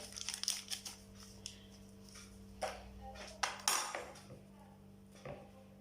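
A spoon clinks and taps against a container while yeast is measured out for milk bread dough. The light metallic knocks are sparse and close in an otherwise quiet kitchen.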